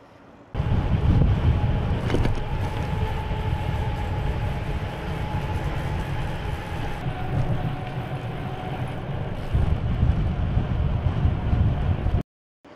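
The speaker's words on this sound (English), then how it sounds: "You probably hear that wind maybe buffing around there" Springtime wind buffets a microphone while cycling along a pathway in Alberta, a loud, continuous low roar that holds for about twelve seconds before cutting off abruptly.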